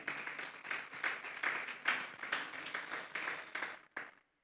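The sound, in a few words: applause in church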